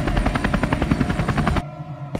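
A helicopter passes with a rapid, rhythmic rotor chop that is loud and close for about a second and a half, then cuts off abruptly, leaving a faint hum.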